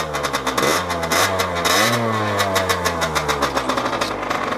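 A 50cc moped engine starting and running after the choke is closed, loud and close, with the revs rising and falling, a buzzing idle and a pulsing exhaust rhythm, with no voices.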